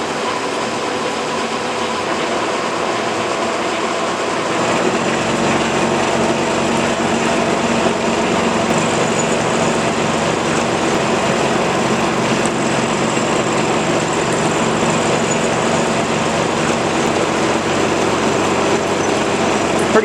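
A Kearney & Trecker milling machine takes heavy cuts in 316 stainless steel, a loud, dense, continuous mechanical roar and whine holding steady throughout, with the load rising after the first few seconds.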